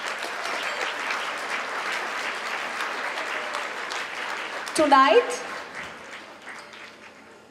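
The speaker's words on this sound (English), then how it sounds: "A round of applause for the board of directors." Audience applause for the Lyceum board of directors at a Greek culinary gala: steady, full clapping from a large crowd that tapers off as a speaker begins to talk.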